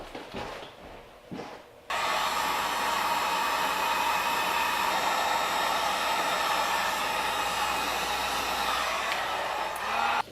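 A heat gun blasts to shrink heat shrink tubing over connected wire during a Porsche 356 starter relay install. After a few quiet handling noises it switches on abruptly into a loud, steady, close blowing roar that continues to the end.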